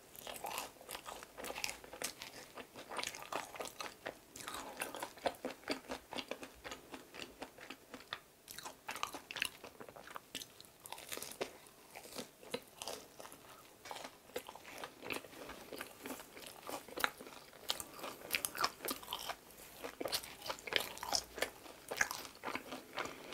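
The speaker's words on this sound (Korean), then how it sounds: "겉은 바삭하고 안은 쫀득쫀득해요." Close-up crunchy chewing of bread with a crisp crust and chewy inside, with repeated crisp bites and soft mastication noises in a steady rhythm. The room is otherwise quiet.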